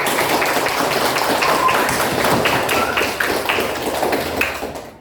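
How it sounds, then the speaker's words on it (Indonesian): Students in an Indonesian classroom clap together in sustained applause lasting several seconds, then it fades out at the end. "Tepuk tangan untuk kita semua."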